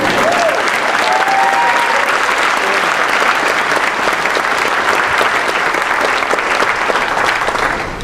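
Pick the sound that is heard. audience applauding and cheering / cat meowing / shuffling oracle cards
audience applauding and cheering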